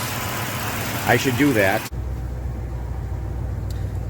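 A supercharged M90 Crown Vic engine idles with a steady, low, smooth rumble and faint whine, someone speaking briefly over it at first before the idle continues alone.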